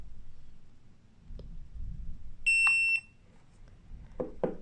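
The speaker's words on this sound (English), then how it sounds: "we enter settings mode by holding the set button until we hear a beep" A Mata T2 pressure gauge gives a single short, high electronic beep as it enters settings mode, preceded and followed by soft button clicks in a quiet room.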